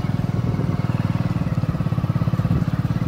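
A motorcycle ridden along a badly broken road in India that has gone unrepaired for years: a steady loud engine drone with a rapid pulsing throb, close and continuous, without talk.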